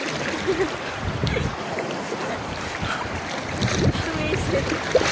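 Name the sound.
waves at sea heard from a boat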